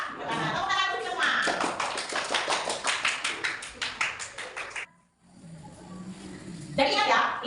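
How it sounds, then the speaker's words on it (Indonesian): A class of students claps their hands in a quick, steady rhythm for several seconds, loud and close, then stops briefly before the clapping and voices start again. Children's and adults' voices talk over the clapping throughout. "Tepuk tangan dulu semua"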